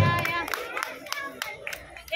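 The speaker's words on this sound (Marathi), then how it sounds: "टाळ्या वाजवत राहा, टाळ्या वाजवत राहा." Women in a housing society audience clap during a prize announcement at a home game event, with scattered, uneven claps under a voice speaking over them.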